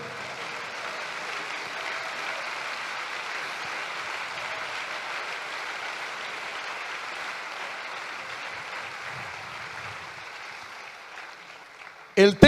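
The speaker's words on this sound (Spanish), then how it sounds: "Aplauda a Jesucristo" Church congregation applauding, a steady wash of clapping at moderate level that gradually fades, ending with a brief louder burst.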